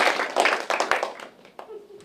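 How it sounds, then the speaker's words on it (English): Scattered clapping from a small comedy-theater audience welcoming a comedian to the stage, close and uneven, tapering off within a couple of seconds into near quiet. "give him a big round of applause"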